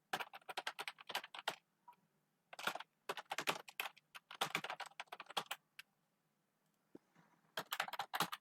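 Computer keyboard keys tapped in quick bursts with short pauses while an email ID is entered on an exam portal registration form, close and clear with no talking.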